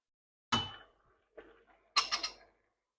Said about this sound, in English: Always make sure with your pasta that you stir your pasta.